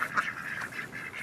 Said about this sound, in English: Get the ducks.